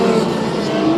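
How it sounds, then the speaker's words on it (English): Race cars in a heat race at Bakersfield Speedway, a dense, loud engine roar from several cars running close together, steady throughout without a break. "Some great racing for the lead"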